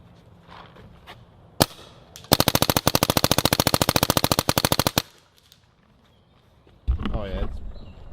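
Angel A4 paintball marker, a 05 Speed model, firing a rapid full-auto burst of roughly forty evenly spaced sharp pops over about three seconds, preceded by a single loud shot, close and loud, with brief talk afterward.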